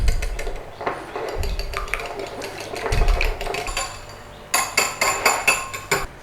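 A fork beats tuna cake mixture with pepper and salt in a bowl, giving repeated quick clinks and scrapes against the bowl, irregular at first and then settling into a steady, brisk rhythm.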